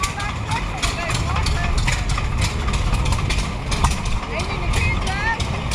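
An engine idles at a county fair, a steady low rumble running under crowd noise and clatter, with people talking nearby.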